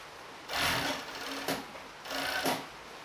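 A sewing machine stitches elastic onto bikini panties in short bursts, two main runs of rapid whirring with brief pauses between, near and moderately loud, no talking.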